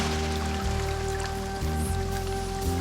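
Steady rain falls throughout, a dense, even patter with a low rumble underneath and faint trickling, alone with no voices, on a 1995 VHS children's storytime tape.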